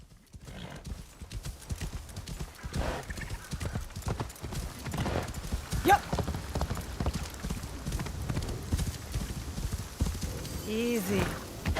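A horse gallops through Assassin's Creed Shadows, its rapid clip-clop hoofbeats drumming steadily and close, with a neigh near the end, while a man murmurs briefly over the gameplay.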